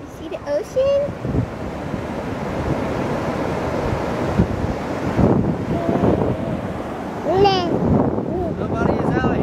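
Ocean surf and wind at a beach, a continuous rumbling wash with gusty wind buffeting the microphone, while adults and someone talk over it at a few points.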